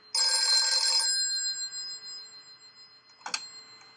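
Phone ringing with an incoming call, one loud bright electronic ring burst near the start that fades out, followed by a short rattling clatter at the end, with no talking.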